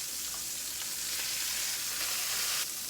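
Pork tenderloin sears in a hot pan, giving a steady, even sizzle and crackle of frying that holds throughout without a break, fairly quiet and alone with no talking.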